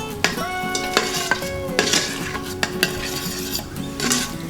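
Tomato puree mixture being stirred into chole in an Instant Pot, with a spoon scraping and clinking against the metal pot in quick, uneven strokes, close up with a faint sizzle underneath.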